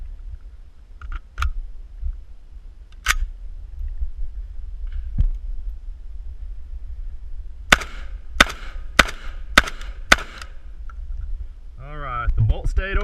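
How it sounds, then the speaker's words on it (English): A freshly polished Vepr 12 shotgun is emptied in a fast magazine dump: five sharp, loud shots in an even, rapid rhythm, preceded by a few quieter mechanical clicks and knocks, with no talking. "we're just going to do a quick magazine dump, check how she runs after she's been polished up."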